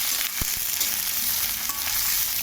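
Eggplant frying in hot oil in a pan, a loud, dense, unbroken sizzle that stays steady throughout, with a faint knock near the start.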